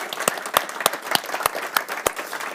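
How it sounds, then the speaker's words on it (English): A small group claps, with sharp distinct hand claps over a softer patter of applause, fairly close. "Can we give him another applause?"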